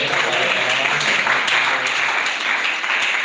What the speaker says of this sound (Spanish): Dale un aplauso al Rey de la Gloria